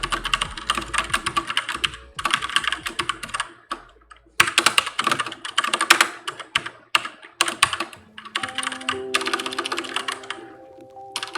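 Typing on a computer keyboard, close and clear: quick bursts of clacking keystrokes separated by short pauses, with a soft tonal sound layered in near the end.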